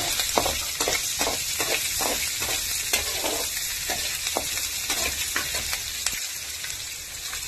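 Onions go into hot oil with curry leaves for a coconut-powder brinjal fry, hissing in a loud, steady sizzle up close, punctuated by a quick run of rhythmic spatula scrapes and taps early on.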